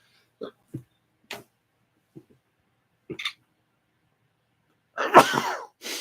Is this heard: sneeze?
yes